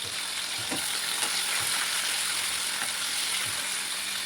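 Onion and tomato sautéing in hot oil, a steady close sizzle filling the whole stretch, with a few soft scrapes of a spoon stirring the pan and no talking.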